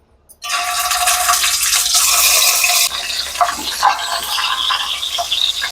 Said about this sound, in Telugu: ఆ ఆయిల్ వేసుకుని మనం ఇప్పుడు ఎగ్ ఫ్రై చేసుకుందాం